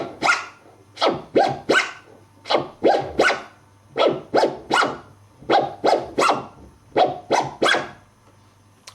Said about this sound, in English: A reverse tear is the opposite of the forward tear that we've just done.